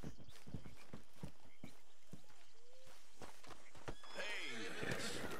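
A horse in Red Dead Redemption 2 clip-clops in scattered close hoofbeats, then lets out a loud, quavering whinny toward the end, with a person talking softly at one point.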